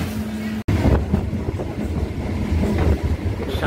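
Morning local train running on the rails from Ranaghat toward Majdia, West Bengal, a steady low rumble with faint rhythmic clatter, close and continuous after a brief dropout.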